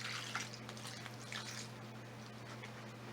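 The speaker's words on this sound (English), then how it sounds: "I'm just going to give it another watering, and done." Water is poured onto the soil of a potted purple passion plant, giving faint, soft trickling and a couple of gentle splashes over a quiet background hum.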